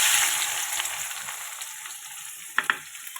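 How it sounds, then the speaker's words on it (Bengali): Onion frying in oil in a pan, a bright close sizzle that slowly fades, with two sharp stirring clacks near the end and no talk. "পেঁয়াজটাকে লাল করে ভেজে নেবো"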